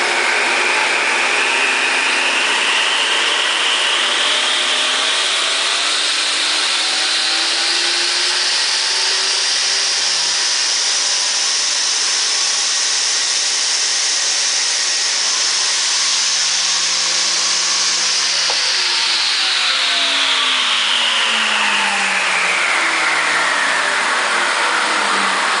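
A 1955 Shopsmith Mark V motor spins up steadily to high speed, its whine climbing in pitch for most of the stretch and then dropping away near the end. It runs loud and close, with no talking.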